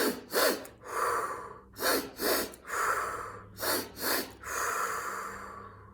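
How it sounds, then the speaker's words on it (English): One person runs through a breathing exercise: quick double sniffs in through the nose, each followed by a long audible exhale through the mouth, repeated in a steady cycle, close and clear. "You actually do sniff, sniff with your nose and out of your mouth."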